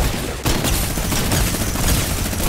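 Rapid gunfire from a weapon in Fortnite, a dense burst of loud shots and impacts sustained after a brief pause, with no talking over it.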